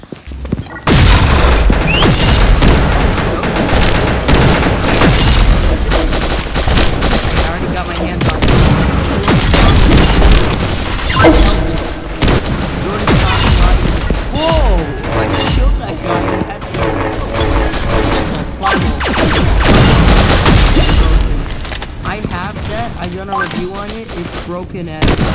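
Area-damage weapon gunfire from the Universal gun in the mobile shooter Pixel Gun 3D: loud, nearly continuous booming blasts and crashing explosions layered with game music, sustained for about twenty-five seconds.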